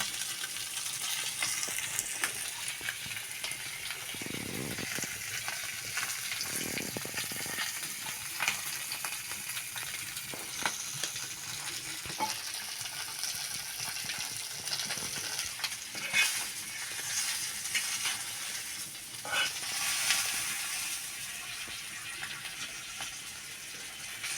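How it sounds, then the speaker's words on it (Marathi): Tilapia fish pieces fry gently on a pan over a low flame, giving a soft continuous sizzle and hiss with occasional faint clinks and scrapes, fairly quiet and without voices. "आता सगळे पीस आम्ही तळीवरती तळायला ठेवणार आहोत आणि थोडे कमी जाळावरती हे पीस आम्ही तळून घेणार आहोत"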